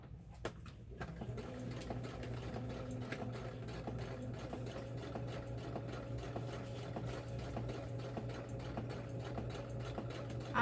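A sewing machine runs steadily, stitching stretchy fabric for a stuffed bear with a secret pocket, giving a continuous low mechanical hum with a fast rattling needle rhythm and a few light clicks at the start.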